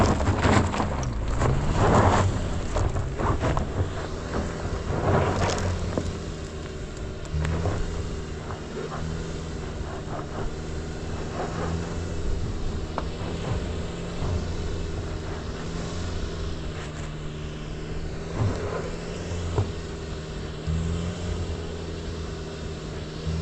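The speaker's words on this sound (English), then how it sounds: "just let the wheels free spin a little bit" A 2.5-litre petrol Subaru Forester sits with its wheels free-spinning in snow, its engine holding a steady, droning note with a low hum beneath it and wind rushing over the microphone throughout, without any voices.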